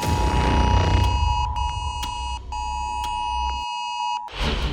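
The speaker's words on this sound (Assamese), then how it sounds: "প্ৰায় 10 সেকেন্ড ধৰি বাজি উঠিল মোবাইলে এলাৰ্ট" Loud emergency weather alert tone from a mobile phone, a sustained electronic beeping with bright harmonics and short breaks, over low rumbling background noise.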